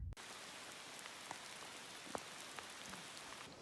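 Rain patters steadily on a mountain climb along the Croatian Long Distance Trail, a soft constant hiss with a few louder close drops, faint overall and no talking.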